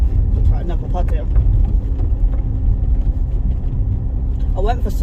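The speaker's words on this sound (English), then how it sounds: "Sploosh. That actually splooshed the windscreen somehow." A 4x4 greenlaning on a muddy track rumbles through a puddle, its engine noise steady and close with splashing water mixed in, and a voice exclaims briefly over it.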